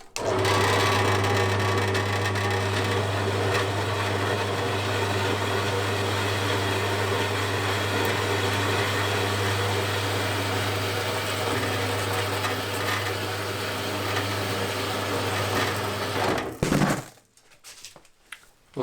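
A metal lathe cuts the end off a V-twin engine crankshaft, a steady loud machining whine with a strong low hum running continuously, then stopping abruptly near the end.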